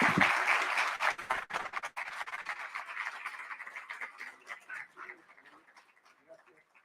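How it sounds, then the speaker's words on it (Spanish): Audience applause following a university talk at a book fair, loud and dense at the start, then thinning out and fading over several seconds into scattered claps. "Un fuerte aplauso"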